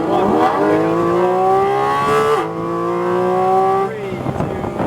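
A Porsche GT4 RS accelerates hard on a racetrack, its engine note rising steadily through two gear shifts, loud and close from inside the car, with a driving instructor talking over it.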